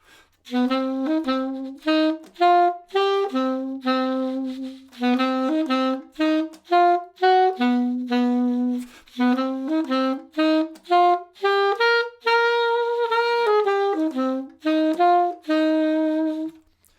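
Swung jazz tune plays alone, a steady melodic line with syncopated, bouncing phrases over clear harmonic accompaniment, loud and continuous for the whole stretch.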